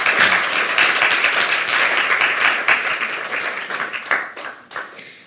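Dense, sustained audience applause fills a French colloquium hall, many hands clapping steadily at close range before thinning and tapering off near the end.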